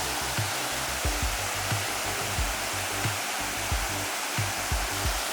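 Water rushes at the Maišiakulė water mill in Lithuania, a dense, steady roar close by, with soft low thuds recurring about every half second beneath it.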